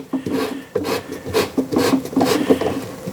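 A Wall Driller Plus anchor is screwed into a wall, giving repeated close, gritty rasping twists in short uneven strokes, with no talk.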